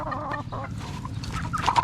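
Chickens clucking and squawking inside a poultry house, close and busy with overlapping calls, no talk.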